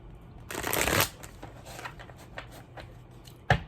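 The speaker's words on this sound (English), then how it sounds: "One shuffle for you." Tarot cards are riffled together in a loud, fluttering burst, then lightly handled, ending with a crisp tap of the deck nearby.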